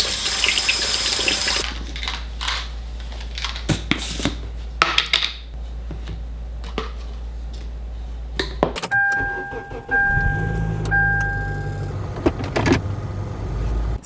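A container being rinsed under a running kitchen tap, with a steady rush of water that shifts as the container is moved and handled, broken by occasional knocks and clatter.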